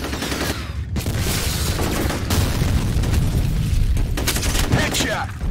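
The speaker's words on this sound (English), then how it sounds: "Grenade out." Grenade blast amid combat in the shooter FEAR Combat, a dense wash of booming explosions and rapid gunfire running continuously and loud, with a voice faintly present underneath.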